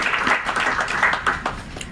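An audience applauds at an evening community event, a dense wash of many hands clapping steadily and fairly loud throughout, with no voices standing out.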